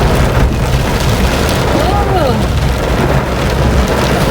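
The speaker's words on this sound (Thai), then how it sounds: "ฝนตกหนักมาก ฝนตกแรงเอง" Dense, steady roar of heavy rain pouring down throughout, a broadband wash with low rumbling underneath and no clear gaps.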